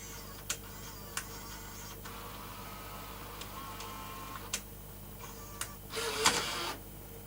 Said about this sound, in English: Let's see if it can eject the tape.